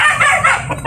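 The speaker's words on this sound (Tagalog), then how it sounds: "Naririnig pala yung huni ni Itim eh." A rooster's crow, loud and close, a single drawn-out call filling the brief moment.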